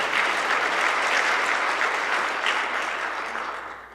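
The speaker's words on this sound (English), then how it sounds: "So let's give them a round of applause for the service to our community." Audience applause fills a township address hall, a steady dense clapping from a crowd that holds strong before tapering off toward the end.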